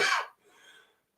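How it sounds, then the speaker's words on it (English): A man gives one short harsh cough followed by a faint breathy exhale, close and isolated, during a talk. "I'm going to cough, excuse me."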